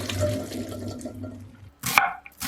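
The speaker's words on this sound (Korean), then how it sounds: "물은 빼내고 식힐게요." Water draining off food just boiled in a pot with bay leaves, a running splash that fades, then a short sharp burst of pouring and clatter near the end.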